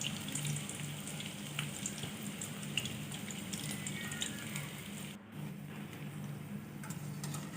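Potato vada deep-fries in hot oil, giving a steady, soft sizzle and bubbling that runs continuously, with faint clinks and scraping in the kitchen.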